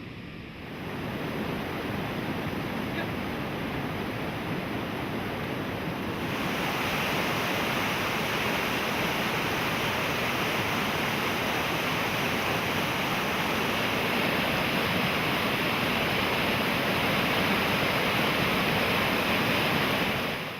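Waterfall at the Lili Falls in Madagascar: a steady, loud, broadband roar of falling water that continues unbroken and grows slightly fuller partway through, with no voices.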